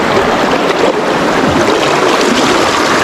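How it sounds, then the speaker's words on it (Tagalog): Strong waves slap and churn around a boat, a loud, dense, unbroken wash of water noise close by. "Lakas ng alon dito eh."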